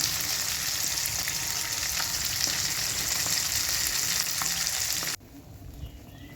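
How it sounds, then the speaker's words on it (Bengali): Whole tilapia fish, rubbed with salt and turmeric, frying in hot oil: a dense, loud, steady sizzle with crackles that drops abruptly to a quieter hiss near the end. "মাছটাকে প্রথমে লবণ হলুদ মাখিয়ে রেখেছিলাম তো তেলের মধ্যে একটু ভেজে নিচ্ছি"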